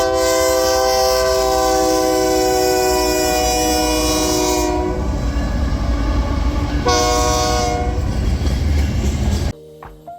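A Ferromex freight train passes, its loud horn sounding a long blast, falling silent, then blaring again, over a continuous rumble and rhythmic wheel clatter on the rails; no one speaks.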